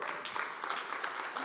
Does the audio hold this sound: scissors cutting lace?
no